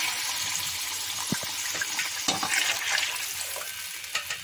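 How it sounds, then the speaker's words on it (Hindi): Water is poured into a pan of roasted chickpeas, producing a continuous splashing, hissing gush with small sizzles, close and fairly quiet. "अब पानी डाल देना है इसमें।"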